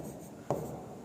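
Chalk or marker strokes on a board during a maths lesson, two short scratchy taps about half a second apart, faint and close over a quiet room with no talking.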